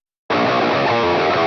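A soloed center guitar track from a mix enters abruptly after a short silence and holds as a dense, loud, sustained wall of tone to the end.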